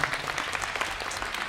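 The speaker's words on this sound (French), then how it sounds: "On peut l'applaudir," Short burst of audience applause at a fan convention panel in Toulouse, quick overlapping claps from a crowd, steady and moderately loud throughout.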